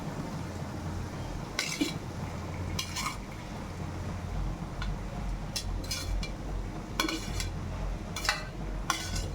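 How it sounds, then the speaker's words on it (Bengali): Jackfruit pieces going into spiced masala in a cooking pan for a meatless jackfruit biryani made without onion or garlic: several short scraping, clinking stirs and pan knocks over a steady low kitchen hum, with no talk. "এখন আমি কাঁঠালটা এখানে দিয়ে দিব।"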